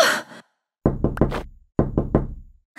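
Knocking on a door in a Minecraft video game: two separate bursts of three quick, loud, hollow raps, with a short silent gap between the sets.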